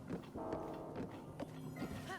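Hooves of a horse in the video game The Legend of Zelda: Breath of the Wild clop rhythmically across Hyrule Field over a low musical and ambient bed.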